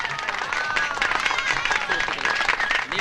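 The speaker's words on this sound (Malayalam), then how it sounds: "കുട്ടിയെല്ലാം ചേർന്ന് കൈയടിച്ച്" A group of children claps together at a festive program, a dense, steady patter of applause with voices and a thin whistle-like tone running through it.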